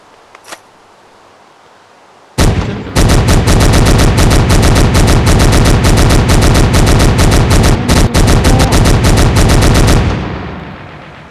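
A big gun in a video game fires in a long, loud, rapid automatic stream lasting several seconds, broken by a brief pause before it continues and then cuts off.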